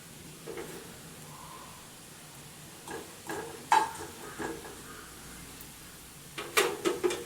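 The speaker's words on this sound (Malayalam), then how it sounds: "കടുക് പൊട്ടിയതിന് ശേഷം" Mustard seeds spluttering in hot oil, a low frying hiss punctuated by scattered sharp pops and crackles that grow denser toward the end; no speech.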